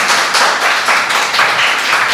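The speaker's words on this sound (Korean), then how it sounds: "힘찬 박수 감사합니다." A congregation claps loudly and vigorously during an Easter Sunday worship service in a church, a close, continuous patter of many hands with slight surges.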